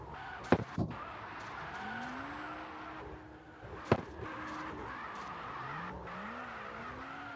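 A game car engine whines and revs in rising and falling pitches, with sharp clicks and thumps of gear shifts cutting in.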